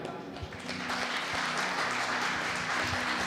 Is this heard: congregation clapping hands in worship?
yes